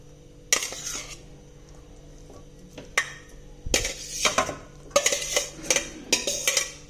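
A metal spoon stirs bottle gourd rice in a pan, sharp scraping clinks in irregular bursts, close and fairly loud with quiet gaps between.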